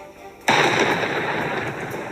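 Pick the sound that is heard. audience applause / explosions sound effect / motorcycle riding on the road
explosions sound effect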